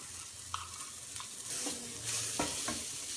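Mashed boiled potato stirred into a frying spicy masala in a pan for a bajji chilli snack, with soft scraping and stirring strokes over a low sizzle, a few sharper clatters near the end.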